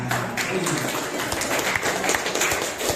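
Audience applause at a school talk on positive learning culture, a dense steady patter of many hands filling the room with voices mixed in throughout.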